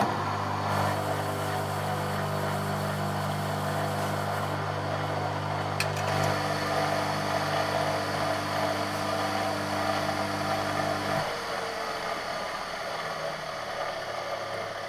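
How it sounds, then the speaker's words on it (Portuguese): A small motor drives a polishing tool to smooth a file's serration in a goldsmith's workshop, giving a steady, even hum throughout that shifts in tone partway. "vai-se ao motor para amaciar a serrilha da lima"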